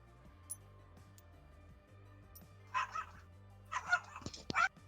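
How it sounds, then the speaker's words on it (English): A dog named Trump gives a few brief, muffled barks and yips in two quick bursts, fairly distant, against a quiet indoor background. "I can hear Trump barking at him"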